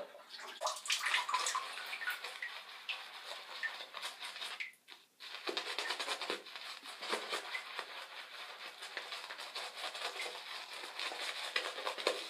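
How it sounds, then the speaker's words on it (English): Running water from a tap splashes steadily in a bathroom sink as someone rinses off after a wet shave, close and continuous with a short break partway through and no talking. "I'll just rinse off and I'll be back in a second."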